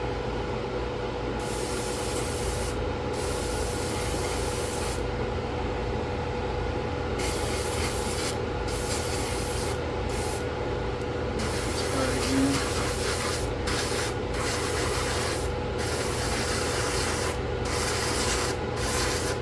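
Dark gray paint misted onto the deck of an Atlantis 1/535 scale USS Iowa model, a close, steady hiss of airbrush spray with brief pauses between passes.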